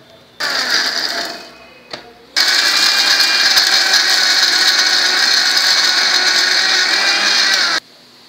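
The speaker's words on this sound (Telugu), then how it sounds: "మిక్సీలో కొంచెం బెల్లము, చింతపండు, సరిపడినంత వెల్లుల్లి, జీలకర్ర వేసి మిక్సీ చేయాలి" An electric mixer grinder blending curry leaf chutney with jaggery, tamarind, garlic and cumin, a loud high whirring motor in two runs, a short burst, a brief pause, then a long steady grind that cuts off abruptly.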